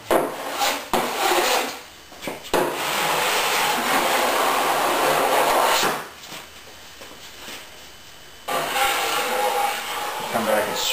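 A drywall knife scraping excess fairing compound off taped seams, several long rasping strokes close by, separated by brief pauses, with no talking.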